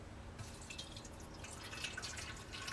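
Homemade extendable paint, strained, being poured into a small container, heard as a quiet, close trickle with scattered dripping splashes and faint liquid gurgles.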